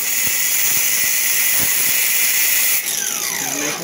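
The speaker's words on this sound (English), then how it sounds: "Let's take a mini grinder." A mini grinder runs at high speed to clean debris out of a thread on a car's rear suspension and brake hardware. The hissing whine is loud and steady, then its pitch shifts and it winds down near the end.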